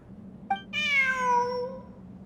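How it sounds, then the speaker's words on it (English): A cat in Genshin Impact gives a short chirp followed by one long, clear meow that fades out, heard alone over a low steady game hum. "Look, a cat."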